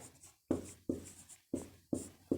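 Strokes of writing on a board during a ratio maths class come in short, sharp scratching bursts, about six in a loose rhythm with quiet gaps between, close and clear, with no talk.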